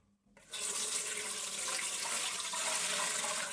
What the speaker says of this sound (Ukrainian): Далі заливаємо воду.